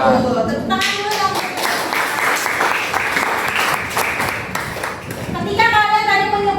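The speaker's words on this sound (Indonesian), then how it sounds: "Tepuk tangan dulu dong." Students in a classroom clap together in a steady burst of applause lasting several seconds, fairly close and full, with a teacher's voice audible at the start and end.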